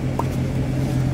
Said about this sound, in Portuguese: Esqueci o carro ligado.